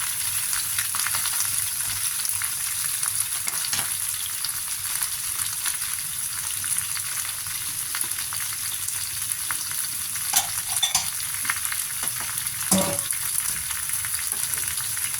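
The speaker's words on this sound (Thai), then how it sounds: "ใส่ผักเข้าไป ผักเข้าไปใส่ไปผัดเลยนะคะ" Vegetables stir-fried in a hot pan give a steady, close sizzle with scattered clinks and scrapes of a utensil stirring them, continuous for the whole stretch and free of talk.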